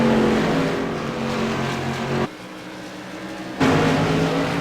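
Modified race cars of the CRA tour lapping Five Flags Speedway, a continuous loud engine roar that drops sharply for about a second and then surges back, no voices.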